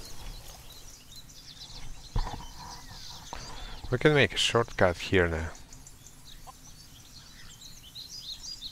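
Chickens cluck in a short burst of bird calls within the video game Craft The World, mixed among quiet game sounds while a person talks over it.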